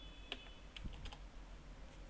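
Quiet typing on a computer keyboard, a handful of soft, close key clicks in an irregular rhythm with no talking.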